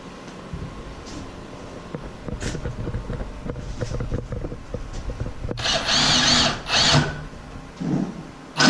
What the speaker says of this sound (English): I'm hoping I'll be able to drill right through this bottom plate